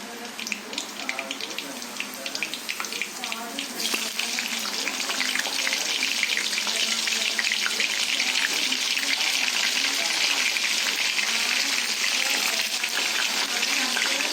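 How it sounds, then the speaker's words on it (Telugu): Pieces of bitter gourd dropped into hot oil with cumin, the sizzle swelling after a few seconds into a loud, steady, hissing fry that runs on without a break. "ఈ విధంగా ఆయిల్ వేడయ్యాక మనం కట్ చేసి పెట్టుకున్న కాకరకాయ ముక్కలు వేసుకుందాము."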